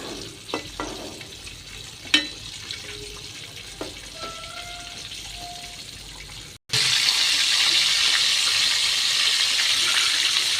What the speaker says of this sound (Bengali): এক এক করে আমি তেলের ভিতরে সবগুলো দিয়ে দিলাম।